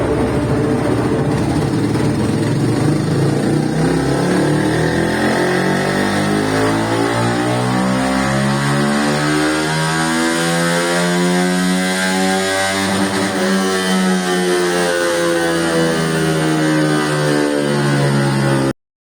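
A Yamaha R15 V4 motorcycle fitted with a 190cc big bore kit revs hard on a dyno, its engine note climbing and falling in sweeping pitch through a long continuous loud run with no talk.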